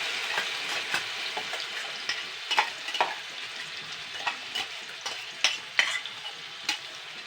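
Spice paste sizzles and fries in hot oil for a spinach and egg dish, with repeated scraping and stirring clinks from a spoon against the pan throughout.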